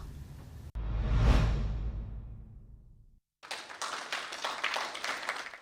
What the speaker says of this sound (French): Dans le salon d'honneur, les applaudissements des autorités guinéennes et sierra-léonaises